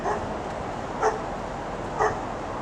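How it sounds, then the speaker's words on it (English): A pet dog barks at the arrival home at a little house in the woods, two short yips about a second apart, moderately distant and alone over a low steady background. "And there's Scarlett letting us know that we're home."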